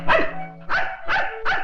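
A dog barks four times in quick succession, loud and close, each bark sharp and throaty with a short gap between.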